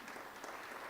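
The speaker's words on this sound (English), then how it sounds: "that also really deserve a round of applause for our children" Short, faint burst of steady clapping from members seated in the Free State provincial legislature plenary chamber, lasting about a second.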